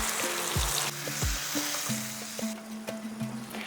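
Water hits hot sizzling masala with kasuri methi in a pan for a vegetarian gravy, giving a loud close hiss and frying crackle with stirring clatter, no talk.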